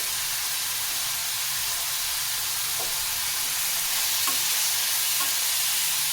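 Tomato chutney with salt, turmeric and ginger being stirred in a pan, a constant sizzling hiss with faint scraping strokes of the spoon, close and even with no voices.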